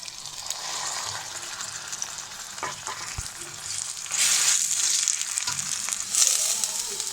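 Ginger, garlic and onion paste goes into hot oil with cardamom, cinnamon, bay leaf and cloves, giving a close sizzle and frying hiss that swells louder midway, with occasional stirring.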